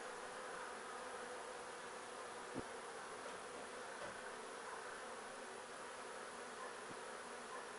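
A steady, dense buzzing of a honeybee swarm, continuous and fairly close, with no voices.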